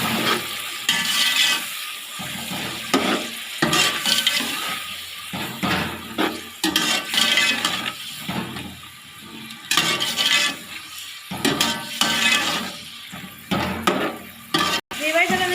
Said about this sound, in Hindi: अब हम इसके अंदर आलू शामिल करेंगे। उन्हें भी साथ ही हम फ्राई कर लेंगे।